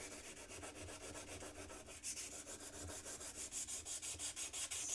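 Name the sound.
hand sanding rust off a metal tool with heavy grit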